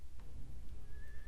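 A horse whinnies in the fantasy video game Sacred Gold, a short high neigh over a steady low rumble of in-game ambience.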